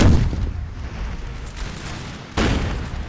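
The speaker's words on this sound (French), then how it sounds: "Canon assez efficace, un petit canon 2 qui tire assez précisément" Booming reports from a small, accurate cannon in the Napoleon Total War 3 game, one heavy shot at the start and another sharp blast near the end, with rumbling battle noise between.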